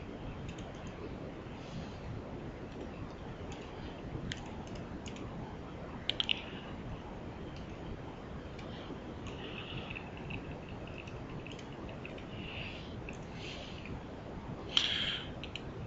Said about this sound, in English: we simply click and start typing